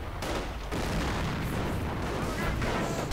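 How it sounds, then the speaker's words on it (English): Artillery in a Company of Heroes 2v2 match, US and British forces against Wehrmacht, makes a dense, continuous rumbling barrage of blasts that fill the scene without pause. "British making an advance under support from artillery, but the artillery is very close to hitting their own men"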